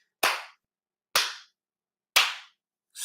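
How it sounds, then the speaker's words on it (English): A slow clap of four sharp, loud single hand claps spaced about a second apart in an even rhythm, close and isolated against silence, the last one cut off at the end. "slow clap"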